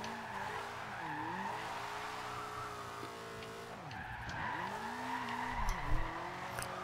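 A Toyota Celica GT drift build in Forza Horizon 2 slides with long wavering tire squeals over a revving, rising and falling engine, the squeal fading briefly before surging again, ending in a louder burst.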